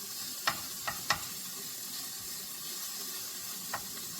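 Bacon frying in a pan, a faint, steady sizzle with a few soft clicks and taps of a utensil against the pan.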